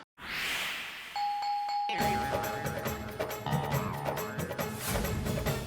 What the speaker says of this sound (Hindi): दरवाजा खोलिए, कोई कब से बेल बजा रहा है।